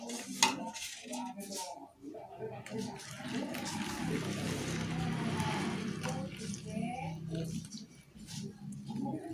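Stirring a cigarette-butt organic pesticide mixture into about a liter of boiling water, with scraping and clinking of a utensil against a container and sloshing liquid, under a person talking.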